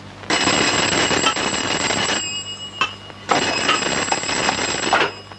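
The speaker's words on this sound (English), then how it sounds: "Is it supposed to distract me from your weird phone ring?" A strange, shrill phone ring from a movie, two long bright electronic ringing bursts separated by a short gap, loud and close with no talking.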